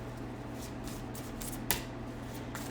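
Tarot cards are shuffled by hand in a series of soft riffling bursts with one sharp snap, over a steady low hum.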